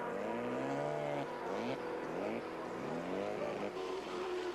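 Can-Am race cars, including 2-liter entries, at Mosport Park during the 1985 Can-Am Challenge, engines rising and falling in pitch as they pass on a long uphill straight, loud and continuous with overlapping engine notes.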